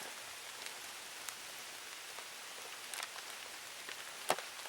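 Light afternoon rain patters steadily on surfaces at a campsite with a Jeep, soft and continuous, with occasional louder drips and taps standing out near the end.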